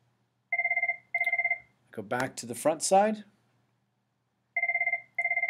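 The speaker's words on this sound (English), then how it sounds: "Sorry about my phone in the background." A telephone rings in two double-burst electronic trills, then again after a pause, with someone talking briefly between the rings, fairly quiet in the background of a room.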